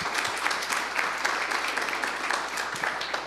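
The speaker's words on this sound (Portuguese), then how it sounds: "uma salva de palmas" Sustained applause from an audience at a student physics tournament, a dense, even patter of many hands clapping without letting up.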